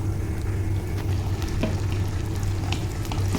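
Garlic frying in hot oil while making pickle, a steady, loud, continuous sizzle and crackle with no pauses and no talk.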